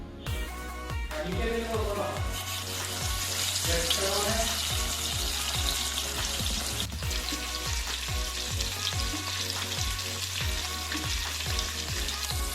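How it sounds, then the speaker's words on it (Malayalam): Karimeen pearl spot fish fries in hot coconut oil in a pan, making a loud continuous sizzle and crackle with a steady low rhythmic thumping underneath. "വെളിച്ചെണ്ണ ചൂടായി വന്നിട്ടുണ്ട് നമുക്ക് ഈ മീൻ അതിനകത്തേക്ക് ഇട്ട് കൊടുക്കാം"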